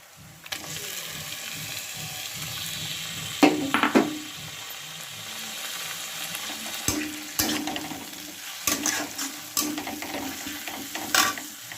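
Onion paste frying in a pan and stirred, a low wet sizzle under repeated scraping and knocking strokes of a spoon against the pan, close, with no speech.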